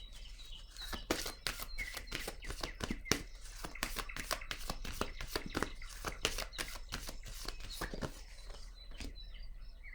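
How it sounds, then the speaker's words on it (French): Tarot cards are shuffled and laid down in a steady run of sharp, close snapping flicks and riffles that last several seconds and then taper off, with faint chirping in the background. "Je vais déposer une autre carte ici."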